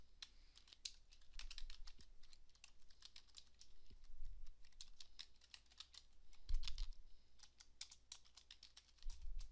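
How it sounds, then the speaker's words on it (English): Someone typing code on a computer keyboard: quick, irregular clatter of keystrokes close up and fairly quiet, with a few heavier thumps of larger keys. "type in our code"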